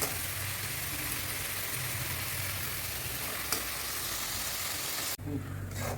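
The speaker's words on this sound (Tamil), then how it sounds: "இப்போ தக்காளி பழம், வெங்காயம் எல்லாம் நல்லா வதங்கி வந்துடுச்சு." Tomatoes and onions fry in a pan for a village-style country chicken curry, a dense, even sizzle that holds steady and then cuts off sharply near the end, with a single brief clink partway through.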